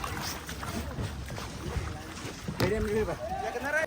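A kayak paddled on water in Goa, with gentle paddle splashes and sloshing, wind buffeting the microphone and people talking nearby throughout.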